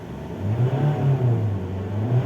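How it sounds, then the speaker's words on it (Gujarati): Tata Safari engine idling in park with the handbrake on, a steady low hum with slight wavering rises, heard from inside the cabin with no talking. "અવાજ છે એન્જિનનો થોડો બધો"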